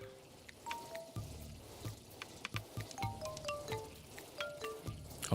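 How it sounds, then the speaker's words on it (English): Rain falls steadily in a video game, a soft hissing patter running underneath scattered bright in-game chimes and blips across the whole stretch, with no talking. "It's raining, chat."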